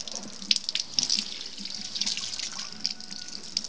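Water runs from a tap or hose while a pig is being washed on a farm in Minas Gerais, a steady hiss broken by splashes and drips, fairly quiet and with no talk.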